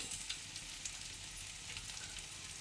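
Chilies and garlic fry in a hot pan, a close, continuous crackling sizzle with small pops, steady and fairly quiet throughout.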